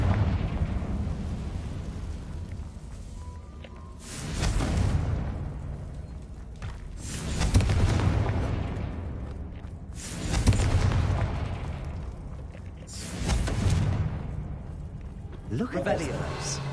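Confringo fire spell from Hogwarts Legacy erupting in repeated heavy booming blasts, four or five loud rumbling explosions spaced a few seconds apart, each swelling and fading into a low roar.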